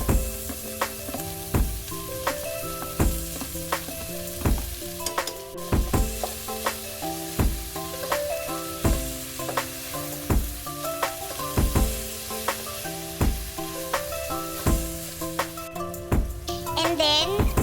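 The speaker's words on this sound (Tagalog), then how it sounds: "we can now add the ground pork" Ground pork sizzles and spits in a hot frying pan for pork picadillo, a continuous crackle broken by repeated scraping and stirring clatters of a utensil against the pan.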